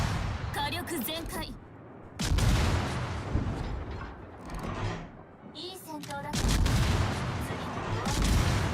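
Ship guns boom in World of Warships: dense volleys of heavy naval gunfire erupt in two loud bursts, each rumbling on for a couple of seconds, with a voice talking over the battle noise.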